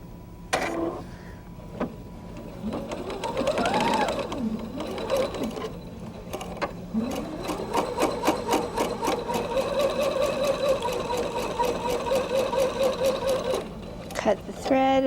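A sewing machine stitches quilt pieces for a Bear Paw block, starting with brief bursts and then running into a fast, steady rattle of needle strokes, close by, with a faint voice at moments.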